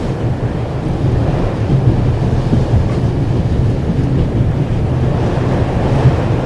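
Steady loud rumble and rushing air inside a moving passenger train with a window open, a constant roar of wind and rolling wheels with a low hum running evenly throughout.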